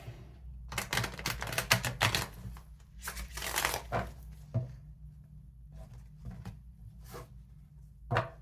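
Cards being shuffled in several quick riffling bursts, crisp papery flutters close by with short pauses between, no talking.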